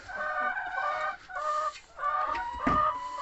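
A group of laying hens clucks steadily and close, overlapping calls forming a continuous murmur with a few sharper squawks, no talking.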